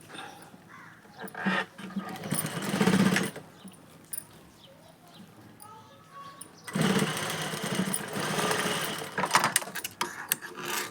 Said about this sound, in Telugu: ఇక్కడ మనం పట్టుకోవడానికి నాడలు కుట్టుకోవాలి